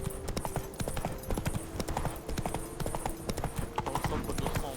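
Roach, the horse in The Witcher 3: Wild Hunt, trots with rapid, even clip-clopping hooves over ground, close and continuous, alongside game ambience.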